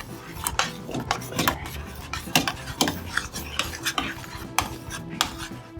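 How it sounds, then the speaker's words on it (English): Tomato sauce with oregano and thyme boiling in a pot, busy splattering and popping with irregular clinks and scrapes of metal, close and steady for a few seconds without talk. "And it's splattering."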